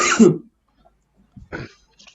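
A single person coughs and clears their throat during an online meeting, one harsh burst at the start followed by softer short throat-clearing sounds after a pause, close and alone.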